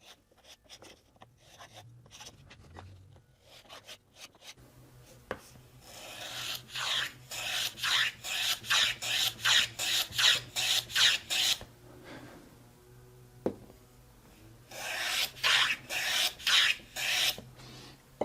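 Rasping file strokes chamfer the top edge of a wooden tongue on a mitered box. A run of about ten quick, even back-and-forth scrapes comes close up, followed by a pause and then another short burst of strokes.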